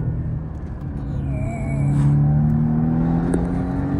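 A car runs at speed on a race track, a steady loud engine drone and road rumble that swells slightly as it pulls harder, with a brief faint whine over it.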